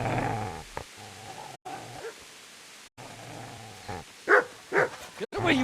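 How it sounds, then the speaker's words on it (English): A dog in the Kingdom Come video game barks and growls in a few short, sharp bursts near the end, following a stretch of low rumbling and someone shouting at it. "Get away, you mutt!"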